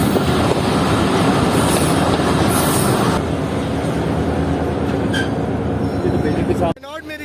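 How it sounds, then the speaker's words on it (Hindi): A Mohenjo Daro Express passenger train rolls into a railway station in Pakistan, loud steady rumble of wheels and carriages with a few high squeals, the din easing slightly before cutting off near the end. "तकरीबन 12:15 बजे ट्रेन एक स्टेशन पर एंटर हो रही है"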